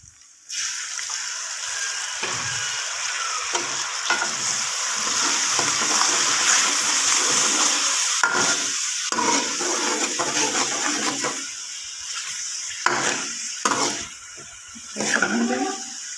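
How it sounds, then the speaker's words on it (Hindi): Chicken achar gosht masala with crushed chillies and coriander stir-fried in a pot after a splash of water, sizzling and bubbling steadily up close, with scraping stirs and louder spatters toward the end. "अब हम इसकी भुनाई कर रहे हैं।"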